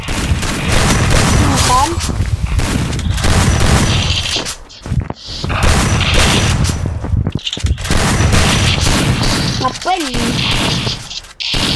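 Shotgun and gunfire bursts from the mobile battle royale game Free Fire, loud and repeated through most of the stretch with short pauses, while a voice talks over the shooting.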